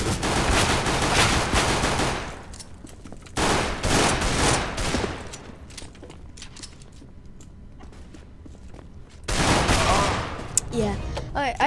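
Counter-Strike: Global Offensive gunfire comes in loud, rapid bursts of shots, two heavy volleys with a quieter stretch of game sound between them, with faint talk.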